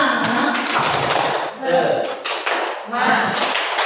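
A group of teachers in a training session does a rhythmic 'tepuk semangat' cheer, with patterned hand claps and taps mixed with voices chanting along.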